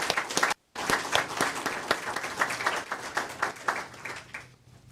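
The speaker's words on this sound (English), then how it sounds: "Let's give Drew Shiflett a round of applause." Applause at a fire department awards and recognition ceremony for the Firefighter of the Year, brisk crowd clapping that cuts out briefly, resumes, then tapers off toward the end.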